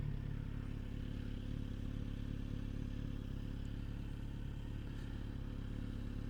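A Kawasaki Z900 RS motorcycle idling nearby, a steady, faint, even engine chug with a low pulsing rumble throughout and no voices.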